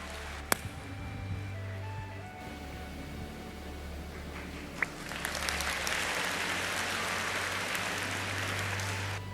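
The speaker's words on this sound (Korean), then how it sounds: "큰 박수 부탁드립니다" Applause from the audience at a Samyang Group corporate centennial event, swelling from a quiet hall into broad, even clapping in the latter half, with a few sharp knocks earlier.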